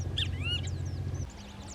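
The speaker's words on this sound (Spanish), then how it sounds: "Era una bandada de jilguero dorado" A flock of saffron finches chirps and twitters in quick, high notes over a low rumbling background in rural winter countryside, brief and fairly close.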